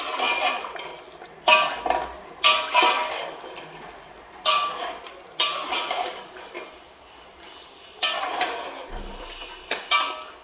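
Tamarind stirred into a large pot of biryani, repeated bursts of scraping and clinking from a spoon against the pot in uneven strokes, close and fairly loud with short pauses between.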